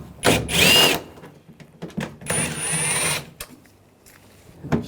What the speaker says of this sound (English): There's two bolts right here, take those out with a 10mm socket.